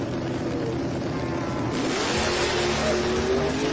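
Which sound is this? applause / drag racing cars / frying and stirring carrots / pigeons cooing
drag racing cars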